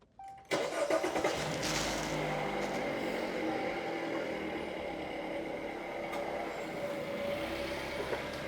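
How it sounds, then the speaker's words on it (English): A car engine cranks and fires up during ignition coil diagnosis, a sharp start followed by a steady, loud idle running close by with no talking. "let's get the car started here a minute. Kind of reach in, get it fired up."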